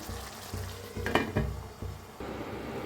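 Green tomatoes and coriander cook in a pan with a faint low sizzle, broken by a few metallic clinks and scrapes of a spoon against the pan, and no voices.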